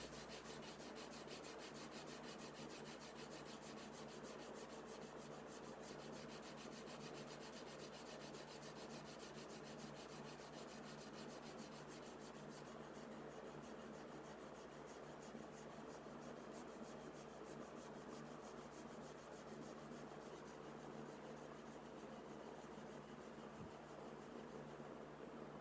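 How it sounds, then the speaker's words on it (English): Hand sanding of a wooden custom guitar body, a faint continuous rubbing and scraping with quick back-and-forth strokes, quiet and close with no talking. "some hand sanding is still necessary"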